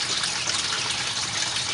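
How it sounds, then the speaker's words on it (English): Running tap water rinses loose debris off a swirl filter, a steady broadband gush with no pauses, close and fairly loud. "rinse it off with water, get all the loose stuff off"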